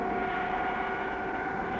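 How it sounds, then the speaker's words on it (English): A propeller airplane drones steadily with a constant engine hum and tonal whine as it fails to climb, close and unbroken, with no talking. "The plane won't climb."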